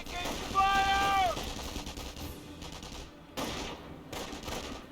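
Gunfire from Company of Heroes plays under game voice lines and a whistling tone. Bursts of rattling shots come and go, fairly close and layered with battlefield noise.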